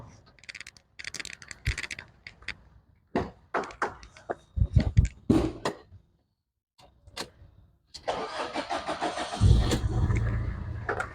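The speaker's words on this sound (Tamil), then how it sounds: "வாங்க இன்ஜின் ஸ்டார்ட் பண்ணி இன்ஜின் ரூம் பார்த்துடலாம்." A used car engine cranks and fires up near the end, settling into a steady idle after a stretch of clicks, knocks and quiet handling sounds.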